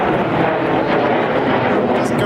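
Jet aircraft flying past at an air show, a loud broad roaring rush heard outdoors under a commentator's voice.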